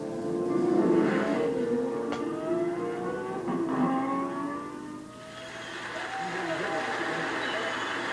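A Lamborghini Murcielago supercar drives past with its engine revving, rising and shifting pitch, moderately close, while people talk over it.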